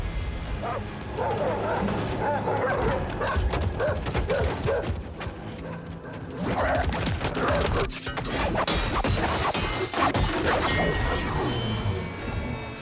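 Dogs bark and yelp amid crashes and thuds in the Death Stranding 2 video game, the barks scattered and mid-distance within busy game action, with a voice talking over parts of it.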